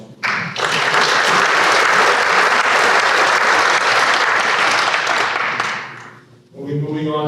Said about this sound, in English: Just want to give them all around the applause again.